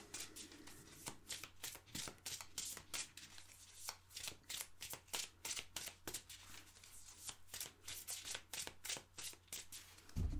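Playing cards are shuffled and drawn by hand for a reading, a quick run of crisp riffling and flicking bursts, close and fairly quiet, with no talk.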